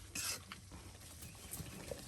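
Beef with spices stirred in a pot gives a soft scraping of utensil against the pot and a faint, steady sizzle, quiet and close, with no talk.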